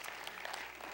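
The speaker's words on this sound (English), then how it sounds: "you may not know what you're clapping for, but go ahead and clap" A church congregation claps together in a steady, fairly quiet patter of many hands filling the room throughout.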